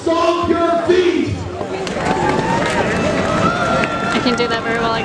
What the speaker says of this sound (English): Can the crowd stomp your feet?